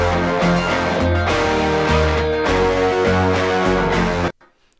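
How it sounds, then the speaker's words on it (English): Dense full-band song mix with subtle piano chords tucked under drums, bass and other layers, playing loud and continuous before cutting off abruptly near the end. "So listening to what we just heard with the piano in sounds like this."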